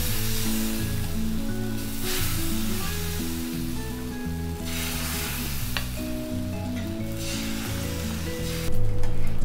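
Rava dosa batter hisses on a hot griddle in a steady, continuous sizzle that runs the whole time under a layer of tonal background sound.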